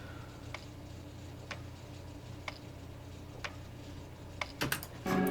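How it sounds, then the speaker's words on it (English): A sparse percussion loop from a song intro, with soft evenly spaced ticking hits about once a second over a low steady bed, growing busier with a few sharper hits at the close. "There's also a perk loop used in the intro and in the bridge,"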